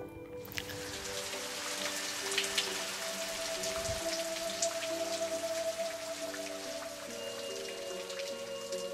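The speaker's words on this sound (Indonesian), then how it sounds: "Hujan, kondisinya udah mulai hujan." Steady rain falls and patters on surfaces for the whole stretch, a dense, even hiss with scattered closer drops and no voices.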